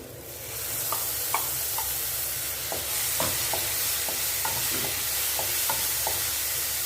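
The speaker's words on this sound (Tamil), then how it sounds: "தக்காளி சேர்த்துக்கலாம் இப்போ தக்காளி" Tomatoes fry in a pan for black chana, giving a steady close sizzle broken by scattered clicks and scrapes as the pan is stirred.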